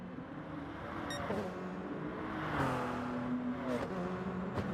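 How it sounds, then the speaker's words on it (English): A rotary-engined race car screams in a racing video game, rising and falling in pitch as it accelerates and shifts, with other cars whirring past. The engine is fairly faint and sits in the background. "the rotary engine just screaming in the background"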